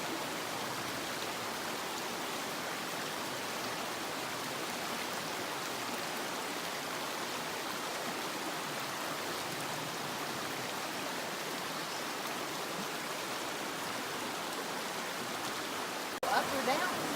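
River along a backpacking trail in Cataloochee: a continuous, even rush of flowing water, fairly close and steady throughout, ending with a brief bump of handling noise.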